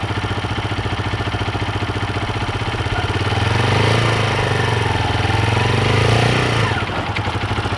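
A beginner's motorcycle idles with a steady low putter, then the engine swells slightly as a little gas is given with the clutch eased out, dropping back near the end.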